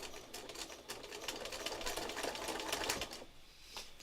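A home sewing machine taking a few stitches: a quick, rapid run of mechanical clicks and whirring for a few seconds, close and fairly faint, stopping briefly before a last short stitch.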